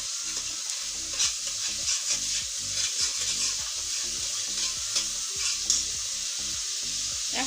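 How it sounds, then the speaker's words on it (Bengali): A blended spice paste sizzles and fries in a pan for a fish dish while being stirred, bright steady sizzle broken by repeated scraping strokes of the spoon close up, with no talk. "একটু কষিয়ে নিচ্ছি"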